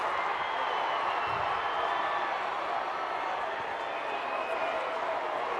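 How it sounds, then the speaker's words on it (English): A loud stadium crowd at an Eagles versus Colts American football game keeps up a steady, broad roar, with a commentator's voice speaking over it. "Crowd is loud."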